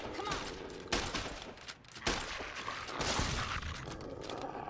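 Gunfire bursts from Fallout New Vegas played on hardcore difficulty, a rapid series of sharp shots and cracks in quick succession, fairly faint, with a few louder volleys standing out.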